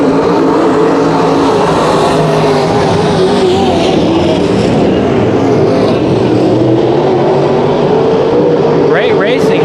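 Race cars circle the Bakersfield Speedway oval in a heat race, several running close together in a pack, their engines a steady, loud roar throughout, with an announcer talking over them.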